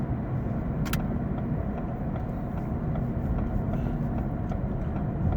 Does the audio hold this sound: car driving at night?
yes